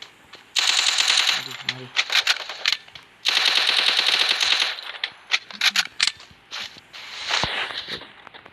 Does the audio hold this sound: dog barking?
no